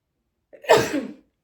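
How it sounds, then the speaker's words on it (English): One sudden sneeze, close and fairly loud, bursting out of silence and fading within half a second. "sorry, I don't know how to edit, so that sneeze is going to be in there"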